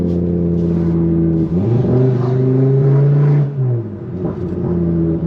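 A VW Golf MK7 with an RS3 conversion and the exhaust back box deleted drones loudly at low revs, heard through an open window. The deep, throaty note swells and dips gently as the car drives along.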